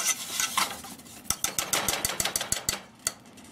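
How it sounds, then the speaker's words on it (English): Thick, clumpy brownie batter whisked in a pot, with a quick series of sharp metallic clicks and taps of the whisk against the pot over soft stirring, close and fairly faint. "Take your whisk, just go around, and it's supposed to be thick and clumpy"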